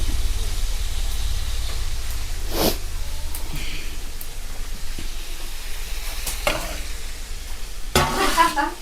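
Chopped green beans for upperi stir-fry sizzle in a pan, with a steady frying hiss and several distinct scraping stirs of a spatula, close and clear.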